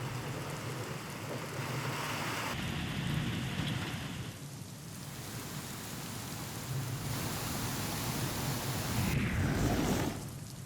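Heavy rain pouring at midnight over Pusad town in Yavatmal, a dense steady hiss of rainfall on surfaces that swells and eases slightly, heard alone without voices.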